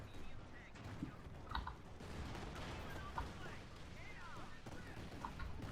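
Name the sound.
artillery fire in Company of Heroes 2 video game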